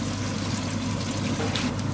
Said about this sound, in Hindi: इसमें पानी ऐड कर लेंगे